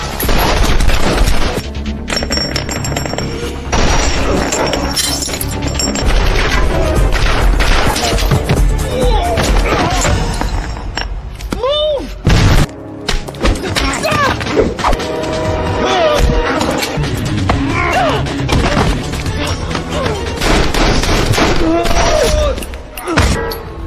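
Battle scene from an action film, with dense gunfire, crashes and explosive booms layered over a loud, continuous score, with a brief drop near the middle before the chaos resumes.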